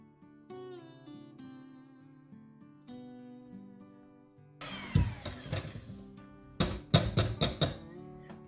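An electric hand mixer whips melted candle wax for a pastry-style candle, starting after several seconds of background music: a loud, gritty whir with bursts of rising and falling intensity as the beaters churn.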